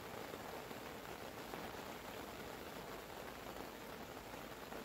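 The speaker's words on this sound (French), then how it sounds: "Nous sommes passés du beau temps à quasiment aucun vent, à une pluie battante." Heavy pouring rain at a gravel-pit carp fishing lake, a dense, even hiss of drops drumming steadily throughout with no breaks, close and enveloping.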